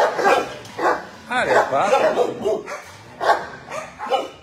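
Young, teenage shelter dogs bark and yip in a kennel during an evening walkthrough, with repeated close barks and whines mixed in with a person talking.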